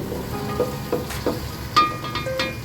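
Garlic and ginger frying in a pan for Pakistani aloo tehri, a low steady sizzle broken by several soft spoon scrapes and stirs, close and fairly quiet.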